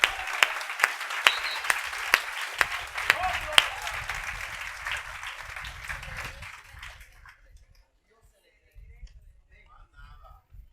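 Applause from a crowd at a national youth conference in 2019, dense clapping with sharp claps standing out for about seven seconds, then fading to near silence with a faint late patter.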